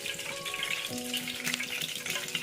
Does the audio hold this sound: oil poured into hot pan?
yes